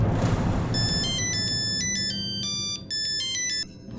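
A phone ringing as a call goes through in a Hindi crime drama scene: a bright electronic ringtone melody of repeated tone patterns, clear and steady over a low room hum, with no talk.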